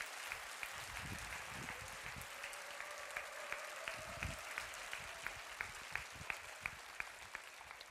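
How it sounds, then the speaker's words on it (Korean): A church congregation applauds to welcome a pastor, with crisp, distant claps scattered through a sparse, reverberant hall, while a low murmur of voices sits underneath. "뜨거운 박수로 맞아주시기 바랍니다"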